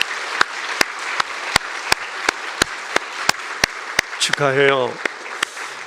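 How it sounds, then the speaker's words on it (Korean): Church congregation at a Presbyterian Sunday evening service applauding fifteen newly confirmed members, with steady, evenly spaced claps ringing through the room. A voice briefly calls out near the end. "여러분 오늘 입교인 되신 우리 15분을 여러분 박수로 축복해"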